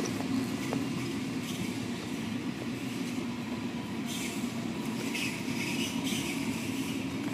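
A Sydney Trains Waratah set moves through Newtown station, a steady rumbling roll of wheels on track with a few faint rail clicks. It stays moderately distant, with no talking.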